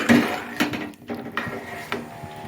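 Metal utensil stirring a pot of mixed-vegetable kuzhambu with brinjal, drumstick and potato, then a lid set on top: a few sharp clinks and scrapes spaced about half a second apart over faint kitchen background.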